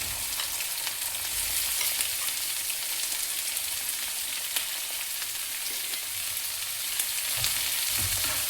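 Finely chopped onions crackle and sizzle with fenugreek seeds in hot oil, a steady close hiss with faint stirring scrapes and no voices.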